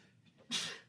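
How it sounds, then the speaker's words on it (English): One abrupt sneeze bursts out close and loud after a brief, quiet breath. "that was a good sneeze"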